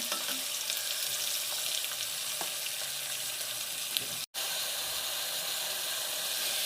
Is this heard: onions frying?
yes